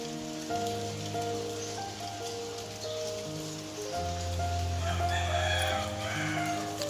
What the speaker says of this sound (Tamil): வெளில எப்படி மழை பெய்யுது, கொஞ்சமாக பெய்யுதா அதிகமாக பெய்யுதான்னு